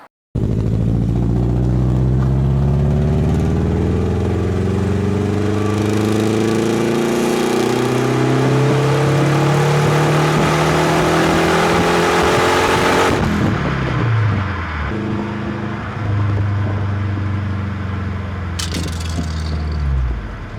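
Alfa Romeo 33 SW Q4 with a 1.7-litre 16-valve four-cylinder boxer engine revving loudly and close by, its pitch sweeping up and down through repeated throttle blips, with a sharp cut near the midpoint before it rises again.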